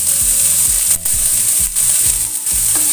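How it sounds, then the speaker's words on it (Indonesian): Onion, garlic and ginger sauté in a hot pan for vegetable lodeh, giving a loud, close, continuous sizzle with brief dips as the pan is stirred. "Ini bawang bombay, bawang putih, dan jahe ditumis sampai dengan tercium bau harumnya"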